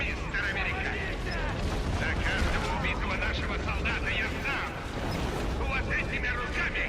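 Dense, chaotic combat in the video game Deadfall, in the mines, with overlapping bursts of gunfire and booming explosions, loud and continuous with a voice mixed in.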